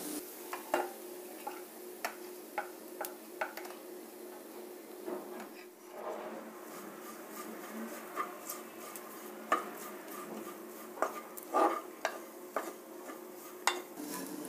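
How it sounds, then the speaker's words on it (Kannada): A spoon stirring ground dill-leaf chutney powder into a tempering in a pan, soft scraping with light irregular clicks and taps against metal, quiet and close. "ಚೆನ್ನಾಗಿ ಹೊಂದಿಸ್ಬೇಕು ಒಗ್ಗರಣೆ, ಚಟ್ನಿ ಪುಡಿ ಎರಡೂ."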